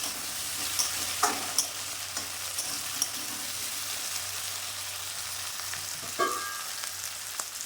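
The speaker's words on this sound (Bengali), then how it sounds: "দু মিনিট পর নেড়ে দিলাম।" Chopped banana flower frying in a pan for a Bengali prawn dish, giving a soft continuous sizzle broken by a few scraping stirs of a spatula, close and fairly quiet.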